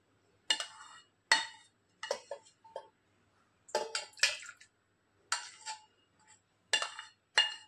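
Moringa drumstick chicken soup being spooned into a mixer jar: a run of sharp metal-on-container clinks and scrapes, about a dozen separate hits in uneven bursts with short pauses between, close and fairly quiet, with no talking.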